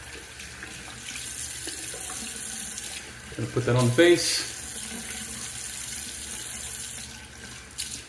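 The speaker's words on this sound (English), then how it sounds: "So I'm gonna run some warm water." Warm water runs steadily from a bathroom sink tap while a beard is rehydrated during a safety-razor wet shave, a constant close hiss throughout with someone briefly speaking midway.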